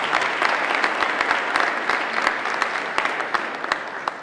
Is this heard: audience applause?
yes